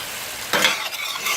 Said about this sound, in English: Here where it's nice and sizzling.